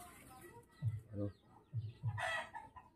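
A few chickens cluck and call nearby in short, low bursts, ending with a brief louder squawk.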